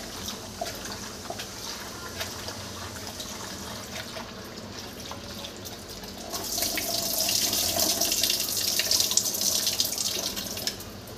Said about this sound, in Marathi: तर इकडे धुते मी कारली